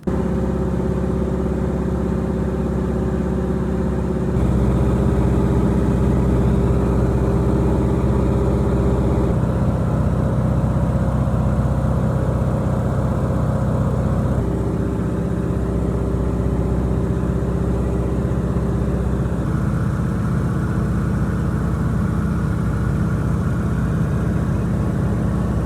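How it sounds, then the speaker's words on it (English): A de Havilland Beaver floatplane's engine drones loud and steady in flight, a constant heavy roar with slight shifts in pitch throughout. "The engine on a beaver is so loud you require ear covers while flying or you'll go deaf"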